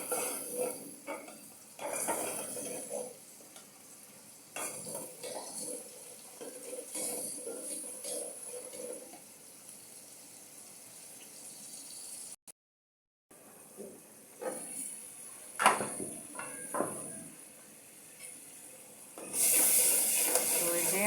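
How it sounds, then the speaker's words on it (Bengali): Spice paste for a rohu fish curry sizzling in hot oil as it is stirred and scraped in a pan, with a steady frying hiss, intermittent metallic clinks of the spoon and a brief break partway through. "এখন এই মশলাটাকে আমি তেলের মধ্যে দিয়ে দেব।"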